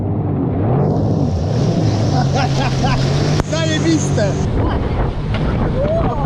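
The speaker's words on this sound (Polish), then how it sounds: "Niektórzy wzięli motorówkę." Loud motorboat on the sea off Croatia, its engine droning steadily close by with wind buffeting the microphone, while people talk and exclaim over it.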